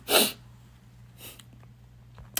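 A single sharp sneeze bursts out at the start, followed by a quieter sniff or snort and a brief breathy sound near the end, over a low steady hum.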